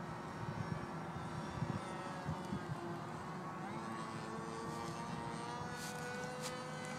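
TuffFlight Predator RC plane motor idling low: a steady, buzzing engine drone holds close and even throughout, with slight pitch shifts.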